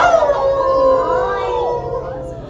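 Several children imitate wolves, voices rising and falling in overlapping howls close by, sustained through the clip with a steady, wavering tone.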